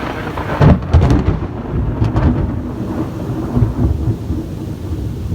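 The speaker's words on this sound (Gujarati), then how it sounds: "ફૂલ વીજળીના કડકડા" Loud thunder cracks and rumbles during a heavy downpour. Sharp booming bursts come near the start and again around two seconds, over a steady, dense roar of rain. No voices are heard.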